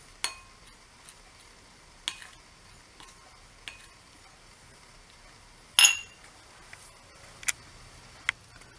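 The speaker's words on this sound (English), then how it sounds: "Mix it well." A spoon stirs a mixture of grated cheese, pepper powder and green chilies in a bowl, giving sparse, quiet clinks against the bowl at irregular intervals, with one sharper scrape near the middle and no talking.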